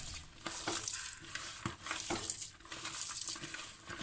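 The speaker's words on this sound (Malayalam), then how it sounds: "ഇനി ഇത് നന്നായി കുഴച്ചു കൊടുക്കാം" Hands knead chicken momo dough after salt is added, making steady wet, squishing and slapping sounds with soft rhythmic thumps. The sound is close and moderately loud, with no talking.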